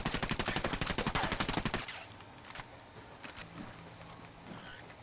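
Rapid bursts of gunfire while hunting alpacas in a video game, a loud fast rattle of repeated shots for about two seconds, followed by quieter scattered distant shots and ambient noise.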